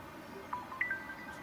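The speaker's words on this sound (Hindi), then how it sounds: "किसका फोन बज रहा है?" A mobile phone rings softly with a short, bright electronic ringtone of a few rising tonal chirps over quiet room ambience.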